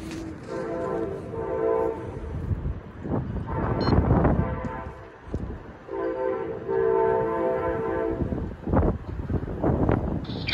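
A loud train horn blasts in repeated long, steady blows as locomotive 448 arrives, rumbling close by, with gusty winter wind buffeting the microphone.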